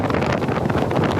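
Strong gale-force wind in Kaohsiung, roaring and buffeting hard against the microphone in a loud, continuous, gusty rush with no voices.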